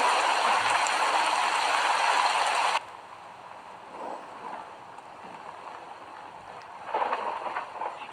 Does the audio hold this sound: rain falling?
yes